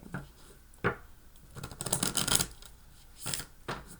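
Tarot cards shuffle by hand in quick riffling bursts, a close crisp flutter around the middle with a few softer single card slaps before and after, nothing else in between.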